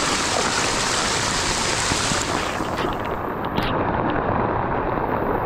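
A swollen river runs strong after heavy rain, a loud, dense, continuous rush of churning water close by, steady throughout without breaks.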